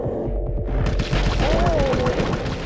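Gunfire from the Sega Dreamcast game D2 rattles in quick, booming bursts over a deep low rumble as monsters are shot, loud and continuous across the short stretch.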